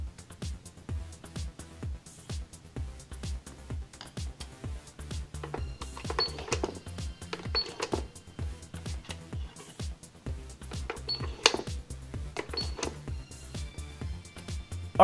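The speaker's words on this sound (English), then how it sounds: "This cash register also takes credit cards." A toy cash register plays its electronic tune with repeated chimes and ringing beeps, steady and fairly loud throughout, with no one talking over it.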